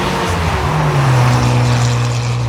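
A 1970 Datsun 240Z engine revs, its note climbing and holding in a loud, close, sustained rise before easing off.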